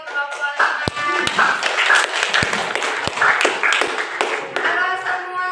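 A classroom audience claps for a presenting group, scattered hand claps with sharp individual slaps over a steady patter, with a voice and musical tones faintly underneath.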